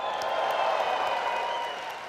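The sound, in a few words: audience applause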